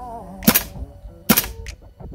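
Two sharp gas-powered shots from a King Arms TWS-9 airsoft gun running on an Armor Works square gas drive, each a loud crack with a hiss, spaced under a second apart and close to the listener.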